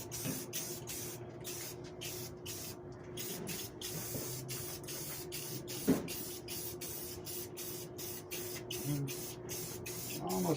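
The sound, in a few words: spray-on finish being applied to wooden frame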